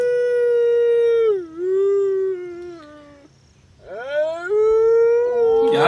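A dog howls in long, drawn-out tones that waver in pitch, pausing briefly before another sustained howl, loud and close.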